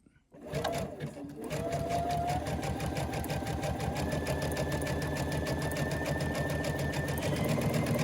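A sewing machine with a one-step buttonhole foot zigzag stitches a large buttonhole, starting after a brief pause and then running as a close, steady, rapid mechanical whir for several seconds.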